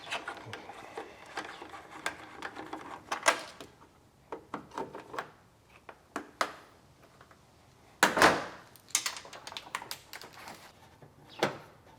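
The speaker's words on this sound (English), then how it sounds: "we're just going to remove some of these screws" Screws being backed out of the bumper cover on a Mazda 3 during crash repair, heard as a scattered run of close, sharp clicks, rattles and tool clatter with brief pauses between.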